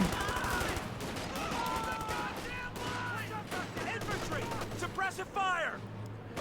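Rifle and machine gun fire crackle in a Company of Heroes 2 battle between riflemen, a captain and Volksgrenadiers, steady bursts of gunfire under an excited commentator talking throughout.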